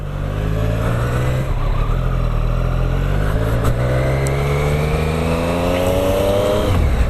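A Triumph Street Triple 765 RS motorcycle engine under way, a loud, close, continuous drone whose pitch slowly climbs as the bike accelerates, with a steady background roar.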